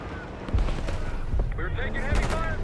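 Gunfire in the video game Call of Duty Black Ops, with several sharp booming shots and bursts in a desert battle, mixed with radio chatter and voices talking over the action.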